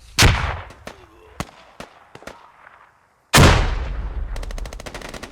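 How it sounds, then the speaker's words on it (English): Explosions and gunfire in a tactical shooter video game, with an RPG hit striking: sharp separate bangs, then a big blast followed by a rapid rattling burst, all loud and close. "Taking another hit there. See an explosion."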